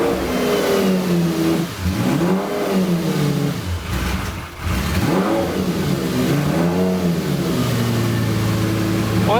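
A Lamborghini engine fires up and is revved repeatedly, loud and close, with rising and falling swells of engine pitch before settling toward a steadier idle near the end.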